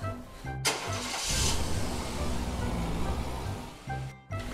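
A pink toy car starts up with a buzzy engine-like whir that runs steadily for a few seconds between short silent gaps, close and fairly loud.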